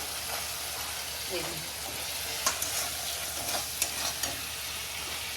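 Green peas fry with spices in a hot wok, a steady close sizzle broken by a few sharp scrapes and clinks of a spatula stirring.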